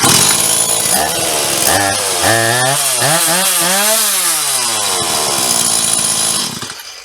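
A Stihl MS 180 chainsaw, freshly repaired and running with its cover off, revs up and down loudly and close by with a rising and falling whine, then drops back toward idle at the end. No voices are heard.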